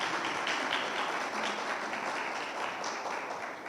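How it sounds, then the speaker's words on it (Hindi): A church congregation in India claps in praise of the Lord, a broad, continuous wash of applause that stays fairly even before easing slightly toward the end. "ताली बजाकर प्रभु की महिमा करें।"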